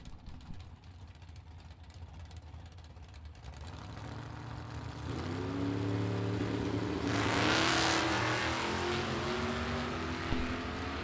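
Vintage drag race cars, including an Anglia wagon, roar as they accelerate down the strip, the engine noise swelling steadily from a distant rumble to a loud, sustained blare with no voices over it.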